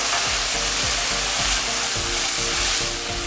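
Stock poured into a hot pan of vegetables and mushrooms, the base for a sweet potato and kangaroo cottage pie, sets off a loud, steady hiss of sizzling, close and continuous throughout.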